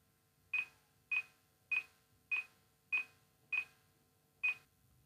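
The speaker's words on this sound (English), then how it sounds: "The beep sound will generate by using Windows" A Windows computer, driven by an Arduino ultrasonic sensor program, gives a series of seven short, identical electronic beeps at a steady, even pace, clear and close against a quiet background.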